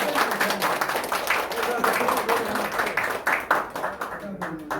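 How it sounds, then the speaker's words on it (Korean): Clapping from an audience at a Korean clan association board meeting during a scholarship certificate presentation, a sustained patter of many hands mixed with voices talking over it, tapering slightly at the end. "자, 우리 박수."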